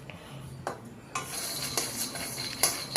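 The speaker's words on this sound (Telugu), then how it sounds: "స్టవ్ ఆన్ చేసి మూకుడు పెట్టి 1 కప్పు పల్లీలను వేసి చిన్న మంట మీద వేయించుకోవాలి" Peanuts being dry-roasted over a low flame in a wok-style pan and stirred with a metal spoon make repeated scraping clinks and rattles against the metal, close and fairly loud, in uneven strokes over a faint hiss.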